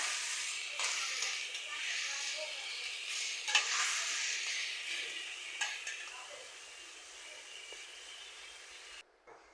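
Sliced onions and plenty of green chilies frying in a pan for a white vegetable bhaji, with a steady sizzle broken by a few scraping stirs of a spatula, fading slightly toward the end.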